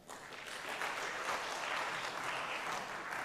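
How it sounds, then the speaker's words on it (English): A seated audience at a youth ICT clubs competition final in Uganda applauds the runners-up, a steady wash of many hands clapping at moderate distance that holds evenly throughout without voices. "Let's clap for the runners-up."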